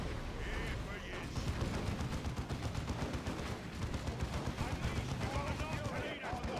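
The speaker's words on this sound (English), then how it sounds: "The place is getting shot at." Gunfire rattles through a Warhammer Ork battle in a video game, with dense continuous shooting and rumbling blasts under voices speaking throughout.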